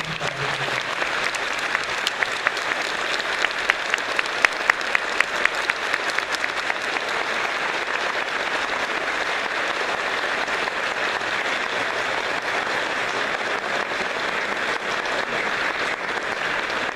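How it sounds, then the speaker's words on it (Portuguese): A church congregation claps in steady applause at a solemn patronal-feast Mass for Our Lady of Sorrows, a dense sustained ovation filling the room with a few sharper claps standing out early on. "saudar com uma bonita salva de palmas"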